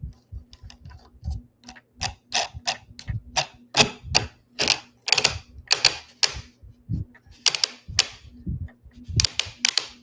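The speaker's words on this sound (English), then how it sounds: "That sound is that circle piece, like clicking into place." Sharp plastic and metal clicks and ratcheting snaps as a round furniture part is turned into place during loveseat assembly, a close, fairly rapid irregular series of clicks with no talking.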